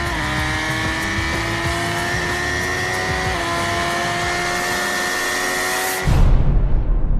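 A high-powered motorbike screams along a rural departmental road, its steady engine whine rising in pitch as it accelerates hard and close, then cutting into a louder rushing roar near the end.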